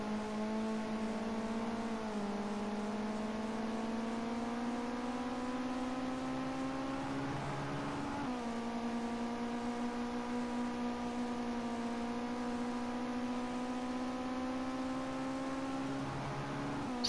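Ginetta GT5 race car engine at Bathurst, a sustained loud on-board drone with rising pitch through the gears, dropping sharply at each upshift around two and eight seconds, then climbing again, with no talk over it.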